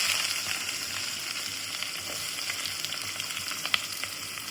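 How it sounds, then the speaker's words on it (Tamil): Chopped onions fry in hot oil for mutton biryani, browning in a pan. A steady, dense sizzle runs throughout at a close, even level, with a few small pops and a faint scrape near the end. "வெங்காயம் ப்ரௌனிஷா நல்லா பொரிஞ்சு வரணும்"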